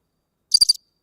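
A single short burst of cricket chirping, three or four rapid pulses at close range, clear against an otherwise silent night background.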